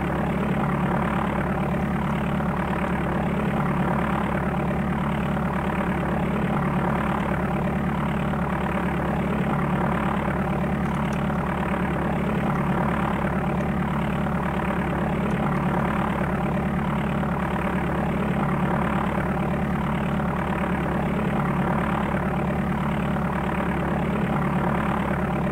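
Steady, unbroken drone of a propeller aircraft engine taxiing in the DOS game Flight Simulator 4, a low synthesized hum holding at one level throughout with no voices.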